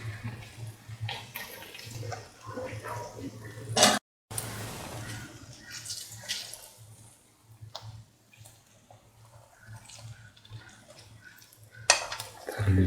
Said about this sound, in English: Mix in the lime juice.